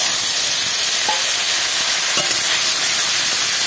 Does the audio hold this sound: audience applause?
no